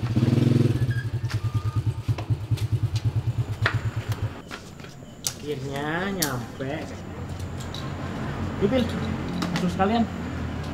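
A motorcycle engine idles and revs close by with a steady pulsing rumble for the first few seconds, then cuts out, leaving voices speaking over faint background noise.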